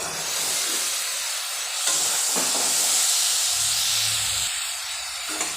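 Fried potato, egg and pointed gourd added to a pan of spice masala give a loud, steady steaming hiss and sizzle, close up, with occasional soft stirring scrapes and no talk.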